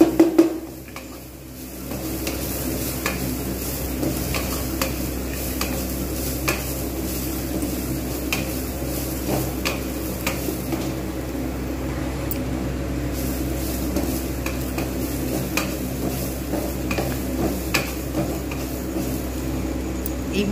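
Spices and rice for vegetarian bhog khichuri fry in a pot, a steady low sizzle with occasional light scrapes and taps of a stirring spoon, close and even, after a brief louder clatter at the start.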